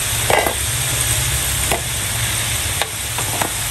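Potatoes fry in hot oil in a pan with a steady, loud sizzle throughout, broken by a few short scraping clinks of a utensil stirring.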